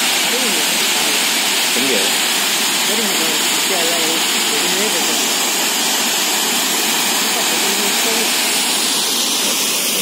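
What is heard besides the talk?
hidden waterfall in Ooty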